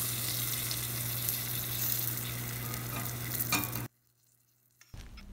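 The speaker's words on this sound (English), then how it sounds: "Add tempering to the kootu." Hot tempering of roasted urad dal goes into brinjal puli kootu with a loud, steady sizzle and stirring, close by, then cuts off abruptly into near silence before some faint rustling returns.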